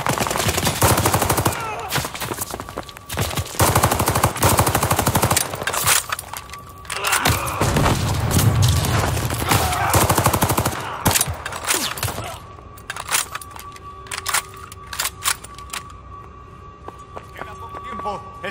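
Call of Duty: Vanguard combat with heavy automatic gunfire, rapid machine-gun bursts and single shots crackling almost continuously, loud and close, with shouted voices mixed in and sparser shots toward the end.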